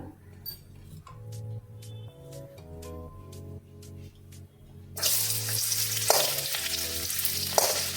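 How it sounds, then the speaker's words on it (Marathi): Potatoes drop into hot oil for sabudana khichdi and fry with a loud, steady sizzle that starts abruptly partway through. Before it, a soft musical backing plays alone, and brief clatters cut through the frying. "आता आपण त्याच्यात बटाटा घालून घेऊया आणि छान तो तळून घ्यायचा आपल्याला"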